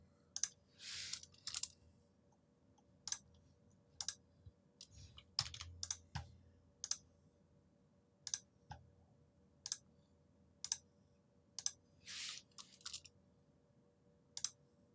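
Sharp computer mouse clicks ring out while someone works in Rayon.design architectural drafting software, arriving irregularly as single clicks and quick bursts over a faint steady hum, with no talking.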